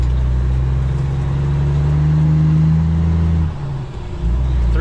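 A 2015 International ProStar semi truck with an ISX 550 engine and 18-speed transmission, hauling propane, pulls away with a loud, close, steady low diesel rumble that briefly dips as it shifts, then picks back up.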